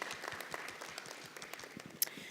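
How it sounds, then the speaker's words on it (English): Brief applause from a conference audience at the East Africa Business Council trade event, with steady overlapping claps at moderate distance throughout. "Please let us give him a clap and his team."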